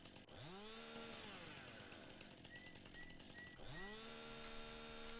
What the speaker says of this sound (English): What a shitty freaking chainsaw.